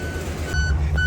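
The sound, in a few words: vehicle reversing beeps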